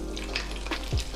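Hot oil sizzles and crackles as water goes into the pan while cooking seblak, a short burst of close frying hiss with a low knock near the end.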